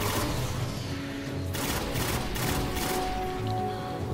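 Bad Juju rapid gunfire in the Destiny video game, a dense stream of loud, closely spaced shots with a few heavier bursts over steady combat noise.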